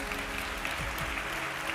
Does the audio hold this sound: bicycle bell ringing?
no